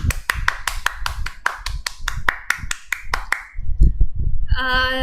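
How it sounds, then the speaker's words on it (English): Hand claps at a club meeting, a regular rhythmic series of sharp claps from one or a few people, then scattered taps and a short ringing tone at the end. "So guys, clap your hands."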